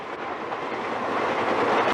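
A subway train rushes past, a loud continuous roar with rhythmic rail clatter throughout and a sharp click near the end.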